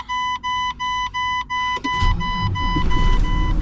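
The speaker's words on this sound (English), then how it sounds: "See, the truck fires up really good now." A truck starts after a series of even warning beeps: the starter catches and the engine roars to life, settling into a loud, steady idle close by.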